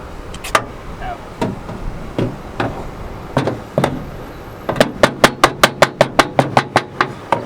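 Tapping on the body panel of a turbocharged Honda Del Sol being prepared for paint: scattered single metallic knocks at first, then a quick, even run of about a dozen close, sharp taps.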